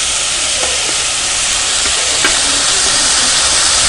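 Ginger, garlic and tomato frying in oil in a pan for vegetable biryani: a loud, steady sizzling hiss throughout, with faint stirring clinks.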